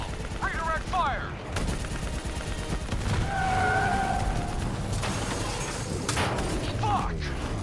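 Gunfire in a Call of Duty 3 battle, continuous bursts and shots crackling through a dense combat soundscape with shouted voices and vehicle noise underneath.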